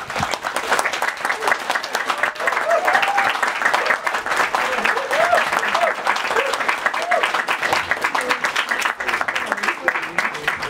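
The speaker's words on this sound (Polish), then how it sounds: "Wielkie brawa dla nich." Applause from a concert audience for a brass band at a jubilee concert marking its 85th anniversary, dense steady clapping sustained throughout with faint voices mixed in.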